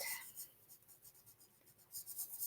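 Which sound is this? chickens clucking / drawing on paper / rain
drawing on paper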